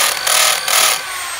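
Handheld Japanese-market 100 V electric hammer drill running in hammer mode, a loud, steady buzzing rattle lasting about a second with a brief dip midway, then cutting off and trailing into quiet.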